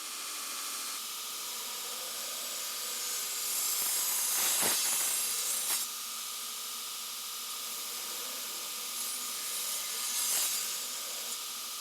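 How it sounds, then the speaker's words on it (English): Belt grinder with a sharp belt on a contact wheel hollow-grinding a hardened Damascus steel dagger blade, a steady loud hissing rasp with brief swells as the steel is pressed harder, close and continuous. "I'm using a nice sharp belt and the contact wheel, and the hardened steel is sparking way more than it was before I hardened it."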